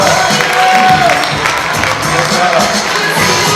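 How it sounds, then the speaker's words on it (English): A school auditorium crowd at a magic show cheers and claps loudly for the full stretch, a dense, steady roar with children's shouts and whoops rising over it. "Big round of applause."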